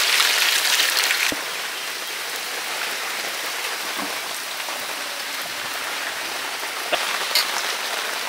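Heavy rain during Cyclone Remal, a loud, continuous wash of rain on surfaces with a brief rise early and a few sharper drips and knocks, and no voices.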